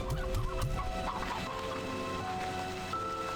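Chickens and hens cluck in Slime Rancher 2, a few short clucks early on over a soft steady game ambience with faint tonal hums.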